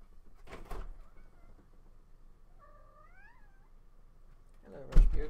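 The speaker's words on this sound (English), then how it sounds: "Cat wants to get in" A house cat gives a single rising, plaintive meow, clear and fairly close, at a door it wants to get through, with faint thumps and knocks at the start and end.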